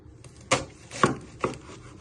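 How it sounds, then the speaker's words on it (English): A knife chops through a vegetable on a cutting board for a pork stew, three crisp separate cuts spaced about half a second apart, close and moderately loud with no talking. "Then you're going to chop it down the middle."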